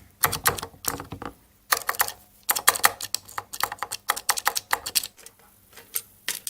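Typing on a MechBoard64 mechanical keyboard fitted to a Commodore 64, with quick clusters of crisp clicky keystrokes separated by short pauses, close and clear with no voices.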